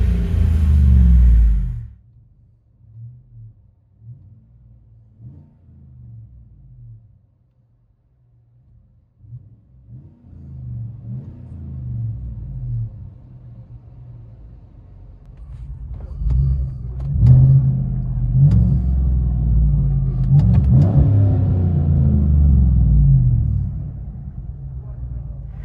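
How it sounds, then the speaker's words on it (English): Chevy Tahoe 5.3L V8 with a muffler delete gives a short loud burst, settles into a quieter deep idle, then revs up again in rising, rumbling swells before easing off; a voice talks briefly early on. "Just did a muffler delete. Not too loud, but deep tone."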